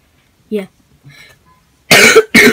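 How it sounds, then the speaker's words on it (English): Two harsh, loud coughs in quick succession close to the microphone, after a few soft murmured words. "I'm sorry for the coughing"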